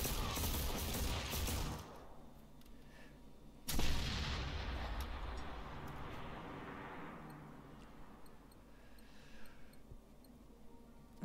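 Rockets firing in a mission of the video game GenZ: a loud launch blast and a roar that decays, then a second sharp, heavy boom whose rumble tails off slowly into quieter distant rumbles.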